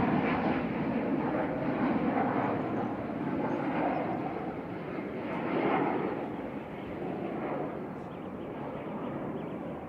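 A Ryanair Boeing 737-800 arriving from Lisbon at Manchester Airport gives a steady, loud jet roar that swells and eases gently throughout, with no talking.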